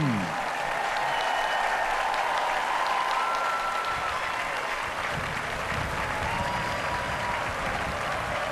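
A concert audience at the 2018 XXVI Latvian Song and Dance Festival closing concert applauds a composer, with dense, sustained clapping from a large crowd that stays steady and full throughout.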